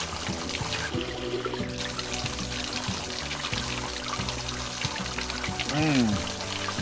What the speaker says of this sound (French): Remplir mes bouteilles de bonne eau.